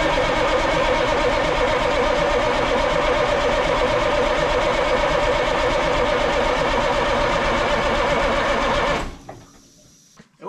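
An abandoned Ford cabover truck's engine cranks on the starter while fuel primes through the system. A loud, continuous, rhythmic churning runs for about nine seconds, then cuts off abruptly into near silence.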